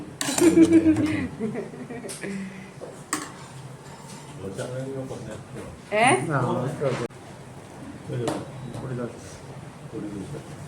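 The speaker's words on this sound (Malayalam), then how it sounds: "പാത്രം മുട്ടണേ" Scattered clinks and knocks of metal dishes and utensils, sharp and close, between stretches of people talking at breakfast in a restaurant serving dosa.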